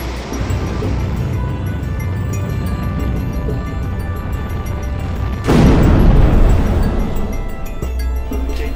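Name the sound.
missile launch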